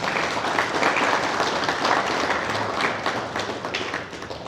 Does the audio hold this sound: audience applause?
yes